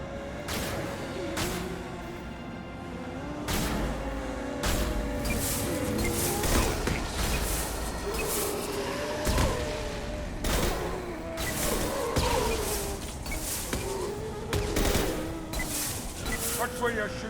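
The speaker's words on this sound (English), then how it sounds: "Watch where you're shooting." Rapid gunfire in a Mass Effect 2 firefight, sharp repeated shots in irregular bursts throughout, loud and close, with voices talking over the combat at times.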